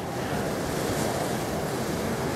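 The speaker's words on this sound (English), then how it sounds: "it's really, really windy out" Strong gusty wind blowing outdoors in rain, a loud, steady broadband roar with heavy wind buffeting the microphone throughout, no voices.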